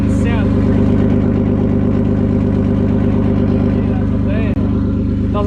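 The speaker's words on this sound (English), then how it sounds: "Doesn't sound like a BMW anymore." BMW car engine running after a boot-mounted turbo install, a loud steady idle with a deep pulsing drone and rattly overtones, close and continuous, with one brief dropout near the end.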